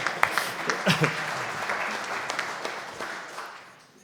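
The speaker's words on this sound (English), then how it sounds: "Round of applause for Ted" An audience at an annual general meeting applauds the board chairman, with scattered claps and some speech at first. The sound is moderate in level and fades out over about four seconds.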